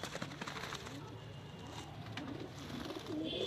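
A Sendha pigeon coos softly amid busy background noise, with brief bird calls surfacing near the end.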